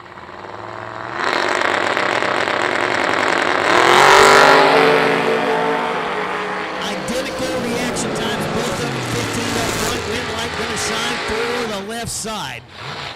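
A Chevelle and a Camaro drag race cars launch down the strip at the IHRA World Finals, engines roaring loud and revving hard, then fading as they pull away, with an announcer talking over the noise.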